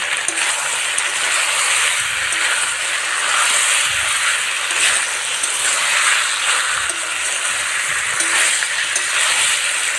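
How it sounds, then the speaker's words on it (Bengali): Chicken and potatoes sauté in hot oil for biryani with a loud, continuous sizzle, and stirring scrapes and small surges run through it, with no voice. "চিকেনের সাথে একটু আলুটাও কষে নেব"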